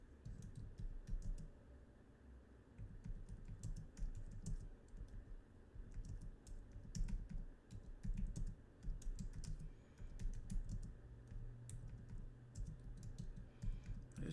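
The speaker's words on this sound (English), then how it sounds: "let's type it in." Quiet, continuous typing on a computer keyboard, with soft overlapping key clicks at an uneven pace over faint low room hum.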